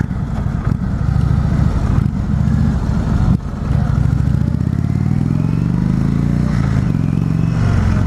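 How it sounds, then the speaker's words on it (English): A Springfield Dark Horse motorcycle brakes to a stop, its loud engine rumble mixed with scraping, clattering mechanical noises throughout, close and continuous with no talking. "it does stop the bike, but it does some weird noises while it's stopping"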